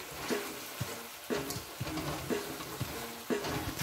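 Pancit noodles with oyster sauce are stirred in a hot pan, a steady sizzle punctuated by rhythmic scraping strokes roughly every half second, close and clear without speech.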